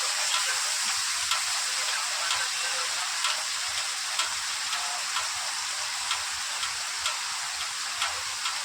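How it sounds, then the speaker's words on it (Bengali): Fish pieces fry in a pan of hot oil, giving an even, dense sizzle with faint regular ticks from the pan, steady and unbroken throughout. "এবার মাছটা উল্টে পাল্টে লাল করে ভাজা।"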